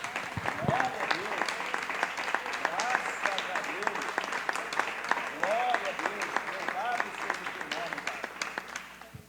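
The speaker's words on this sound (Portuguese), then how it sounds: "vamos dar uma salva de palmas para Jesus?" A church congregation at a morning worship service applauds steadily throughout, with cheering voices and shouts rising over the dense clapping.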